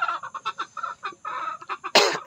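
A backyard gamecock rooster clucks in a rapid run of short, close, loud notes, ending in a harsher burst.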